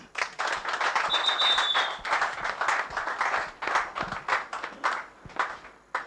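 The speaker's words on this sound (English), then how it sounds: "We clap for her." An audience at an open-air outdoor broadcast studio in Nigeria claps in a burst of dense, lively applause that swells and tapers over several seconds, close and loud.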